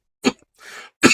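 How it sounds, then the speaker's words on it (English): A person coughs in two sharp, loud bursts separated by a short breathy rasp, close and alone with no talk. "It's so funny to me that I'm coughing up"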